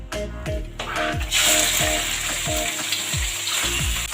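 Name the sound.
chicken frying in a Spanish paella pan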